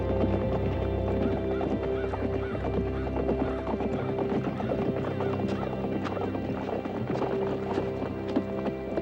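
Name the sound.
horses galloping and neighing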